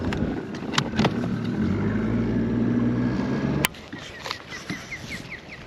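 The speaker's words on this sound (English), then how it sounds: "I'm just gonna idle over there." An outboard boat motor idling on a cypress-lined coastal river: a low, steady drone close by for about three and a half seconds, then it cuts off, leaving wind noise and faint bird chirps.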